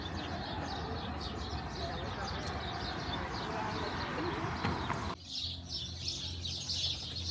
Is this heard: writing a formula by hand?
no